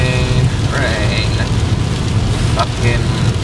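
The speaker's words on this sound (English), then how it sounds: "Rain." Rain falls steadily on a gloomy day at a workplace entrance with goats nearby, a continuous close hiss with a brief voice in the middle.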